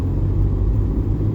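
A small low-power Suzuki Alto's engine hums low and steady while pulling at about 15 mph in third gear on snow, a brief, muffled in-cabin rumble.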